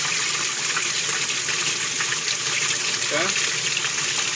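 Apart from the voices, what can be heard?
water trickling down the sides of a Cetus sieve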